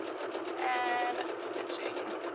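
Sewing machine stitching along the edge of a pillow with continuous cording piping, a steady close whirring run with a brief high squeak partway through.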